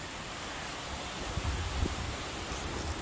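Wind moves through trees in woodland as a steady, broad rushing noise with a low, gusty rumble swelling now and then underneath; nobody speaks.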